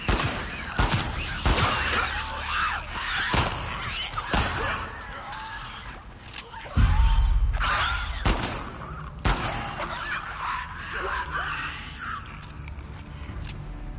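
Gunfire in The Last of Us, sharp shots cracking out in irregular bursts over a noisy game soundscape, with one heavier blast midway, as players talk intermittently.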